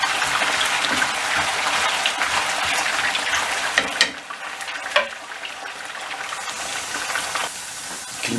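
Potatoes frying in a batch of hot oil for a breakfast dish, a dense, steady sizzle with crackling that runs near and loud throughout, easing slightly partway before continuing, with no voices.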